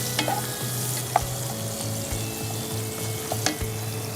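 Chopped onion frying in oil in a pan while shrimp pulao is being made, a steady sizzle with scraping stir strokes and a few clicks of a utensil against the pan, close and clear, with no talk.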